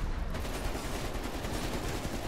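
Rapid AK rifle fire in the zombie shooter Cold War Zombies, a dense continuous burst of loud gunshots with no gaps, close and harsh over the whole stretch.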